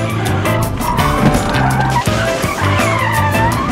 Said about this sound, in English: We put the car out of control and teach them how to control the car.